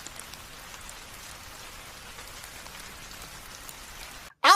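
Steady rain falls on a stormy night in a Bengali cartoon, a soft, even patter of drops continuing evenly before cutting off abruptly at the end.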